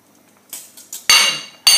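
A metal cooking pot in a home kitchen is lifted and set down, making a few light taps followed by two loud, ringing clanks close by, with no voices.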